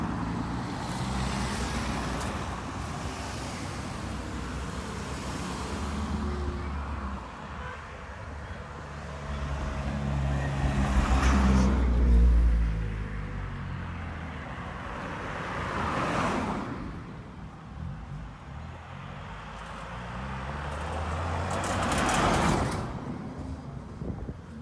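Vehicles pass along Groves Link Road in the Barbados countryside, several swells of passing cars rising and fading at a moderate distance over steady outdoor background noise.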